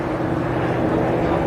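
A vintage aeroplane flying at the Goodwood Revival flying display, a steady, droning engine roar held at a constant loud level throughout.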